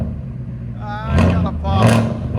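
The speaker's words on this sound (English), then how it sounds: "It sounds so good. Give it gas." A 2024 Ford F-350 with a 6.8L V8 and straight pipes revs twice, each blip rising into a loud raspy roar over a rumbling idle, close by.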